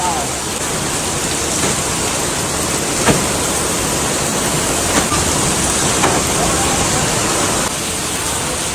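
Steady, even rain pours down on a camp as a dense hiss, with a few sharper knocks and taps breaking through now and then.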